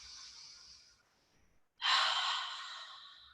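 Slow yoga breathing: a long, airy breath fades out, a short pause of near silence follows, then a deep, loud inhale rushes in and gradually tapers. The breath is close to the microphone and there is no talking.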